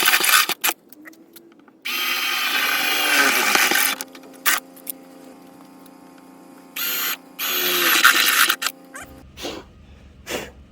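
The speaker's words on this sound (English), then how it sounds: "that's where I'm gonna drill it to" A power drill whines in two long bursts, grinding into the metal body of a third-generation Toyota 4Runner, separated by a steady low hum and a few short clicks.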